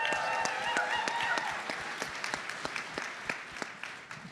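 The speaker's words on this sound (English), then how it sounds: "Let's give another big round of applause" Audience applause at a national political party convention: a crowd clapping steadily, with crisp individual claps standing out over a dense wash that slowly thins.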